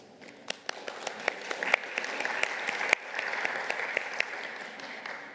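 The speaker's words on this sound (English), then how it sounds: "Please join me in giving them a round of applause." Audience applause for speakers at a UNESCO panel on multilingual education in emergencies, a dense steady clapping of many hands with a few sharper claps standing out, moderately loud and sustained without talk.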